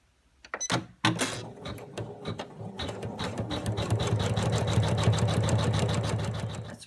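An embroidery machine stitches a crown design onto felt held in a hoop; after a few brief starts it settles into loud, rapid, rhythmic needle stitching close up, running continuously to the end.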